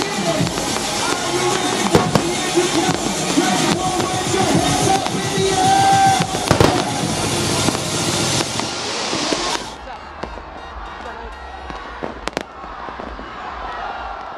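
A spectacular fireworks display marks New Year 2024 at midnight, with rapid rippling bursts and crackles over crowd noise, loud and continuous before easing into scattered distant pops and a murmuring crowd.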